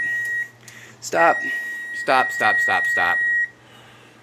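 A kitchen timer beeps in a few repeated bursts while French fries finish cooking, loud and close against a quiet room with a faint steady hum underneath.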